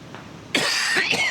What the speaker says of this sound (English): So you guys know you will be hearing a lot of coughing today.